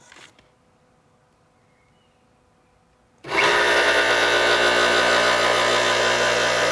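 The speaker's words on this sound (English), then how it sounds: "We got ourselves a motor." Electric motor of a restored Craftsman table saw switching on after a quiet pause, then running with a loud, steady hum and whine, close by.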